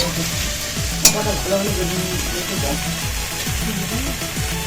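Onion, tomato and salt fry in oil in a wok with a constant sizzle, broken by a regular rhythm of spatula scrapes and stirring strokes, plus one sharp clink near the start.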